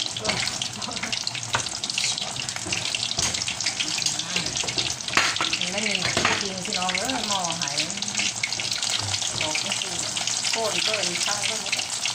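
Breaded chicken frying in hot oil, a steady broadband crackle and hiss that runs the whole time, with a voice talking over it partway through.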